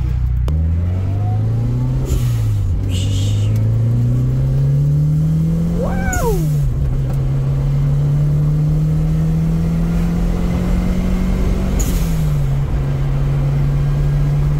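A turbocharged Mitsubishi Evo V with a swapped Evolution III engine revs steadily through rising gear pulls, with a sharp whine and short shift breaks, loud and close; someone briefly exclaims.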